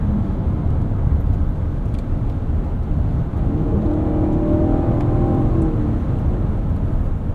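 A 2024 Lexus TX 550h+ plug-in hybrid with its V6 engine drives steadily, a continuous loud engine hum and road roar with a brief rising tone midway and no talking.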